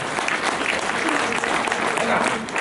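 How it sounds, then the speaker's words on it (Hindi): Loud, dense applause fills a packed hall at a Hindi poetry gathering in Jagdalpur, a steady wash of clapping that holds for the whole stretch with no breaks. "मैं चाहता हूँ कि एक बार पूरा सदन इन तीनों देवियों के सम्मान में भी जोरदार तालियां बजाए।"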